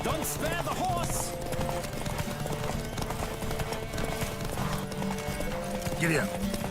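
Horse hooves clip-clop at a steady gallop during a race in The Witcher 3 video game, with occasional whinnies, under continuous game dialogue and background music.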